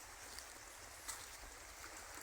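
A shallow river flowing through a forest, heard as a faint, steady broadband rush of water with no distinct splashes.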